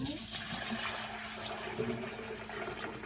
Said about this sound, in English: I'm going to pour this up without splashing it everywhere.